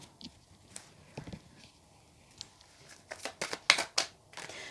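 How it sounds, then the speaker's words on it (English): A deck of tarot cards is shuffled in a few soft riffling bursts that build to a louder flurry near the end, close but quiet, with a faint voice murmuring earlier. "If I can actually shuffle."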